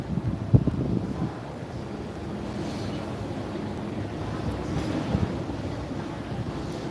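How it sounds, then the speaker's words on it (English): Wind buffets a 10th-floor outdoor terrace in Bangkok, a steady low rushing roar with gusty microphone rumble and a brief thump near the start, no speech. "And I can see it's a bit windy here."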